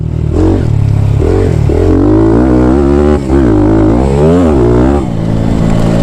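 A Thumpstar TSX140 dirt bike engine roars up close and loud as it is ridden off-road, revving up and down through the gears in a continuous rising and falling drone.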